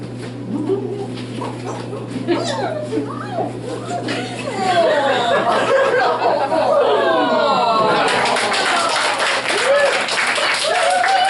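Audience at a laughter session clapping, starting sparse under chatter and lively voices, then swelling into steady, dense rhythmic clapping that fills the room, with people talking and laughing throughout.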